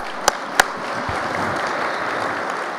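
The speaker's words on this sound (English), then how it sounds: "Yes, that's right, we should clap." Steady applause from a conference audience at CareerTech VISION 2013 fills the clip, with a couple of sharp louder claps near the start.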